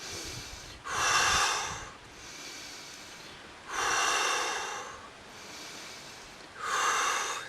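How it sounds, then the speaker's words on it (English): Three forceful, rhythmic breaths from a Kundalini yoga breathing exercise, each a loud rushing exhale through the nose, evenly spaced with quiet pauses between. "we're breathing like this a lot"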